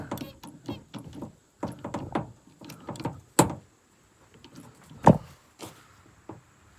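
A spreader on a hydraulic ram jack is set and locked in place, giving a series of close metallic clicks, ratcheting scrapes and two sharp clanks separated by brief pauses.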